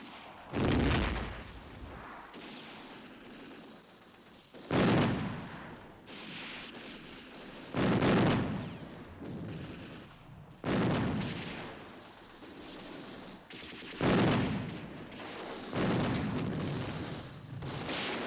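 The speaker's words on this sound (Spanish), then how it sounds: "Son horas y horas de fuego cerrado de fusil y ametralladora." Wartime artillery and gunfire around Madrid's front, heavy booming blasts landing roughly every three seconds amid a dense, rumbling wash of continuous fire, loud and distant-sounding, with no voices.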